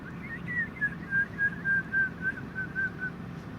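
A person whistles a series of short, evenly spaced notes in a gentle rhythm, clear against quiet room noise.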